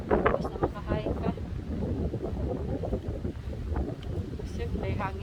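Gusty wind from a hill buffets the microphone during a hike in Korea, a steady low roar throughout, with faint voices mixed in underneath.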